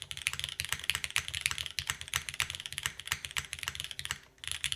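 Rapid, steady typing on an Origami TKL mechanical keyboard with a tadpole mount, up close, a dense run of crisp clacks with a brief pause near the end before the keystrokes resume.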